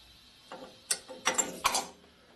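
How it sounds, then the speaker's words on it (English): A valve on a 1980 Harley Sportster 74ci stroker cylinder head is lapped by hand with lapping compound, giving several short, gritty grinding scrapes close up, spaced irregularly over a quiet background. "I'm going to relap the rear head because I didn't finish lapping."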